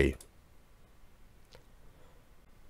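A computer mouse clicks the OK button in RPG Maker MV. One crisp, close click opens the moment, a fainter tick follows about a second later, and a quiet room hum lies underneath.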